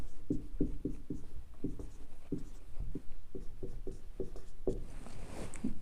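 Writing on a board during a Hindi reasoning lesson, chalk or marker tapping and stroking in quick uneven bursts, close and moderately loud, with no talking.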